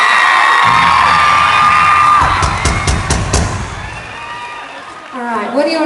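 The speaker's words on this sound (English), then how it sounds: "Come on guys, give them a round of applause" A concert crowd at a show in Perth cheers, whoops and whistles, then breaks into a short burst of clapping that fades as voices take over near the end.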